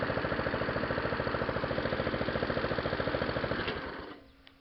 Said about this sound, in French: redémarrage de la Honda Easy après restauration du moteur